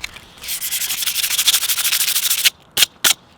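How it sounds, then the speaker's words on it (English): Surface rust is sanded off an old tool in a fast run of close, rasping back-and-forth strokes, then two short separate rubs after a pause. "the first thing I wanna do is get rid of this surface rust"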